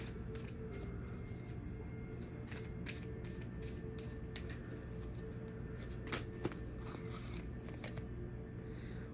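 Playing cards being shuffled by hand in a quiet room, a faint stream of rapid crisp riffling clicks and snaps that runs on without a break.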